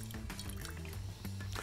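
About 100 grams of water is poured into a container of flour for a sourdough starter, giving a brief, quiet trickle and splash close by.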